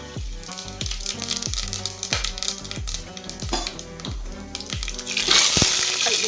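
Pepper and cumin sizzle and crackle in a hot frying pan for Pongal, with rapid popping and spattering bursts and a hiss that grows louder near the end.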